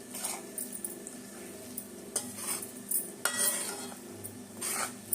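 A spoon scrapes and clinks against a metal pot as fried prawns, green chillies and salt are tossed together for pickle, with a few louder sharp knocks over a low steady hum.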